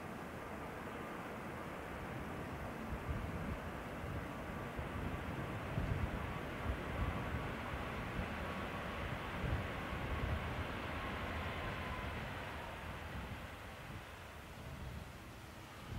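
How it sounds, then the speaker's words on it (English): Ryanair Boeing 737 MAX 8 arriving from Kerry at Dublin Airport, a steady broad jet roar heard at a distance, holding even throughout and easing slightly toward the end. "This is a Max 8 in from Kerry."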